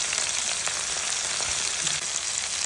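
Prawns frying in ghee in a hot pan for a Mangalore-style prawn ghee roast: a loud, steady, close sizzle with a few faint stirring scrapes.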